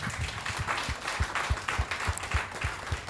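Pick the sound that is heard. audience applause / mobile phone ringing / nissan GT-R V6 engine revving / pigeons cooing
audience applause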